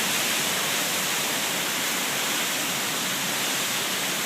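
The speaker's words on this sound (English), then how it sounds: "As you see the water rising up as the water just comes in, it rose up about 2 feet in the last 15 minutes." Storm surge seawater rushes ashore at West Palm Beach Shores, Florida, during Tropical Storm Isaac, making a loud, steady, unbroken roar of churning water that fills the whole stretch with no voices.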